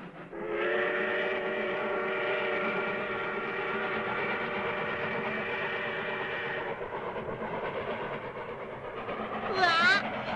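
A train rumbling along steadily with a droning tonal hum, fairly close and sustained, ending with a brief rising whistle-like tone; a voice speaks near the end.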